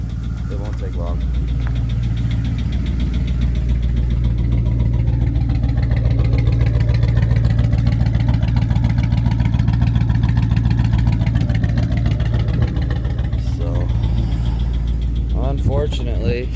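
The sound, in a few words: Dodge Charger with swapped 392 engine running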